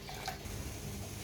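Water is poured into milk in a pan set on a gas stove while making pal payasam, a quiet steady splashing trickle with no talk.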